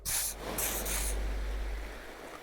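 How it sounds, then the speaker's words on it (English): Nasal spray used in the video game Disco Elysium: a few quick bright hissing spray bursts at the start, followed by a softer lingering low whoosh. "I'll take a little nose spray."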